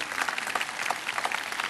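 A university budget forum audience applauds together, dense even clapping held at moderate loudness through a short stretch, with no voices rising above it.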